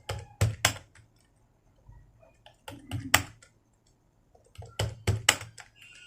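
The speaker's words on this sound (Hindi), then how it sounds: "धीरे धीरे आपको इसको टाइपिंग प्रैक्टिस करना है।" Typing practice in Hindi on a computer keyboard: three separate bursts of clustered key clicks and taps with short quiet gaps between them, close and fairly quiet, with a faint low hum underneath.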